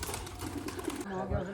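Pigeons coo and rustle close by, with a person talking over them and a burst of noise cutting off partway through.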